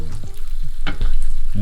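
Eggs frying gently in a pan with a little salt and black pepper, giving a close, steady sizzle with brief scraping or stirring touches across a short stretch.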